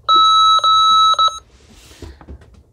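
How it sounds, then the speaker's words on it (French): Several loud electronic call beeps from an Icom IC-M510e VHF marine radio in quick pairs, sharp and steady in pitch, then they stop and leave faint background noise and a brief rustle. "Ça c'est pour un bip d'appel, hein, pour appeler"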